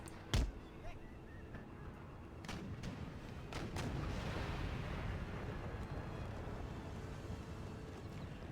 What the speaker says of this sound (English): Early shots killed a couple men on their artillery piece. They're probably going to be returning fire to our own